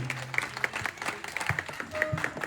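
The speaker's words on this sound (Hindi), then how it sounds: "जोरदार तालियां बजा भाई के लिए।" Brief clapping from an audience at a ceremony honoring Ramlila performers at a temple, a short scattered patter of claps mixed with voices in the crowd.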